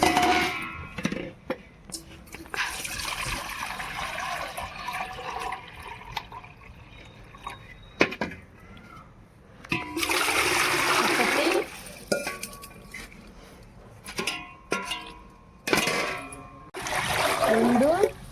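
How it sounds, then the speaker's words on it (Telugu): Leftover water is poured into a flour batter in a kitchen, heard as intermittent splashing and trickling bursts at close range, separated by quieter pauses and faint handling sounds. "ఈ వాటర్ కూడా వేసుకుంటున్నామండి"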